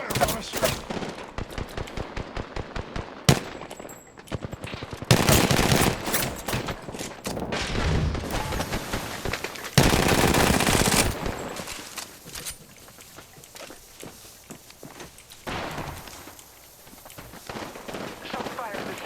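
Video game gunfire crackles in rapid bursts and sustained automatic volleys, loud and close, with voices talking in between.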